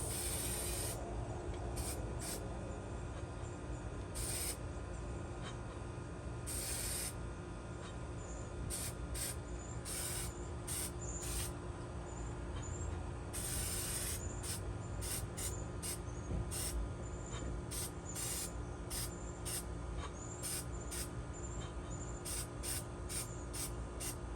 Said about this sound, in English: Now we're going to use our cheap black spray paint